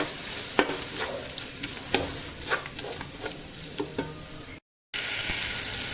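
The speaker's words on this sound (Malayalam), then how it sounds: "ഇത് ഇട്ട് കൊടുത്തിട്ട് ഇതിൻ്റെ പച്ചക്കുത്ത് മാറുന്ന വരെ ഒന്ന് വഴറ്റി കൊടുക്കാം" Masala for egg biryani sautés in a hot pan, giving a steady sizzle broken by repeated scraping strokes of a spoon stirring it, close and fairly quiet, with a brief dropout near the end.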